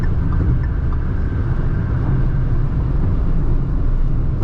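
Cabin drone of a Tata Altroz DCA cruising on a highway at about 120 km/h and 3000 RPM: a steady, loud, low rumble of engine and road noise without a break.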